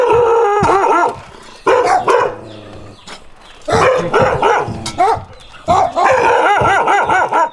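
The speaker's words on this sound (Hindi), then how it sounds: "ये रास्ते में कुछ डॉग्स इस वक्त हमें नजर आए हैं जो कि गधों को जो है वो तंग कर रहे थे" Several dogs on a rural road in Lodhran, Bahawalpur, bark loudly and repeatedly up close in overlapping bursts with yips, separated by brief gaps.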